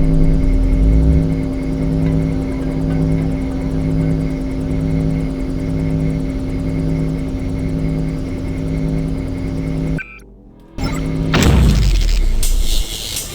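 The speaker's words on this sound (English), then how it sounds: "The problem with the spy drone is that makes a lot of noise when you blow it up." In Deus Ex, a spy drone's loud, steady whirring drone runs for about ten seconds, cuts out briefly, then comes back as a loud blast with a rumbling tail.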